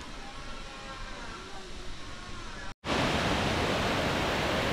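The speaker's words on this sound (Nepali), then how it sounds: "यहाँ चाहिँ हामीले पानी घट्टा देख्न सक्छौँ।" Water rushing through a village water mill (ghatta) in Sikles, Kaski: a soft hiss before a brief cut, then a loud, dense, continuous roar.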